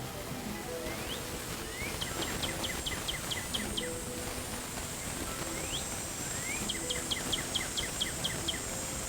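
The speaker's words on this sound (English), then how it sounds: "Northern cardinal." Northern cardinal call played as a sound clip in the 2002 Nancy Drew game Ghost Dogs of Moon Lake: two bursts of rapid, descending whistled chirps, each run of about eight notes, over a background of insect buzz and other bird sounds.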